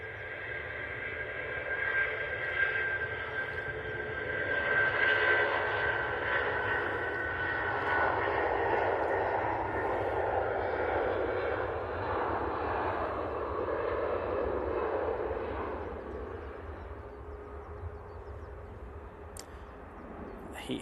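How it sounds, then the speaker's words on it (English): A Boeing 757 departs for Mahon, its jet engines giving a broad, sustained roar that swells in the middle and fades toward the end, with faint talk underneath. "this 757 now off to Mahon"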